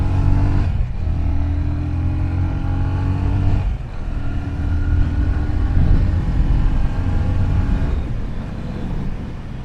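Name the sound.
Yamaha FZ25 motorcycle accelerating, beefy exhaust note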